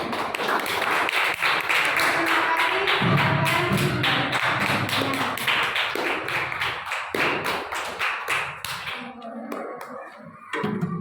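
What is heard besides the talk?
applause for classmates at an anti-bullying event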